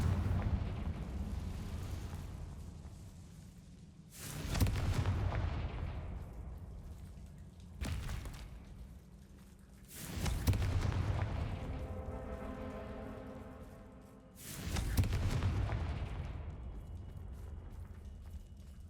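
Several booming fiery explosions from the Confringo spell in the game Hogwarts Legacy, four heavy bursts a few seconds apart, each trailing off into crackling debris and rumble.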